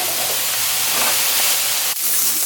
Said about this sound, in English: I'm going to let this saute a little bit, maybe get a little brown